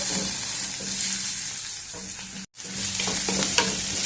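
Ginger, curry leaves and green chillies fry in hot oil for ragi upma, a loud, continuous close sizzle with spatula stirring, cut by a momentary drop to silence partway through, then resuming.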